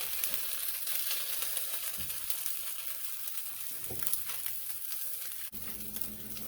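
Scrambled eggs frying in a pan for a sandwich, a steady crackling sizzle close up with a few soft scraping knocks of a spatula, no one speaking.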